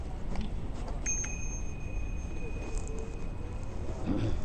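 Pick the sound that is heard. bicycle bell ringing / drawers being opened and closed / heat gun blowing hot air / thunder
bicycle bell ringing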